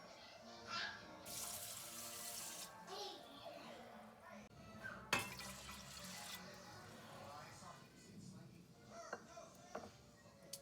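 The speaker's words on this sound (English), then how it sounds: "And then now I'm just gonna add the water." Water runs from a tap and splashes into a pot of rice, a steady rushing stream with faint background voices and kitchen clatter.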